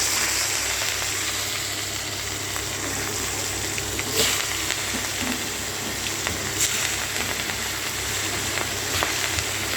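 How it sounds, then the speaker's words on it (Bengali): Skewered prawns sizzle in hot oil in a pan, a steady dense hiss and crackle running the whole time, with occasional sharper pops. "ভেতরে কাঠি দিয়ে এবার এগুলোকে ভাজা করে নেব চিংড়ি মাছগুলোকে"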